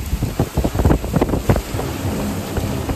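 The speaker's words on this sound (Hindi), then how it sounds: "थंडर स्टॉर्म्स चल रहे हैं खतरनाक वाले" Heavy rain and a raging thunderstorm pound a car from outside, heard from within the cabin as a loud, dense roar with gusty bursts of drumming and rumbling in the first half, then settling into a steady wash.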